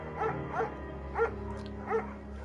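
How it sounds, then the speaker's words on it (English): A shepherd dog in the video game Firewatch barks four times at roughly even intervals, short soft woofs over a steady low ambient hum. "Mayhem's an excellent dog"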